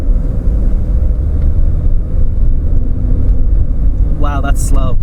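A 1988 Pontiac Fiero under full-throttle acceleration, a loud, steady low engine drone and road rumble heard from inside the cabin, with a voice speaking briefly near the end.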